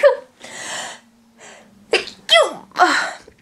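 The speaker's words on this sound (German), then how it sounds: "Und ich muss gleich voll niesen." A person with hay fever sneezes, with sharp inhaled breaths building up before several loud, close sneeze bursts.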